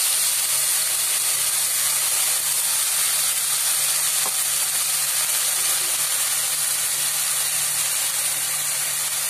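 Ground spice paste sizzles in hot oil with cardamom and cloves for a snakehead fish curry, a continuous loud hiss with a low steady hum underneath and no voices.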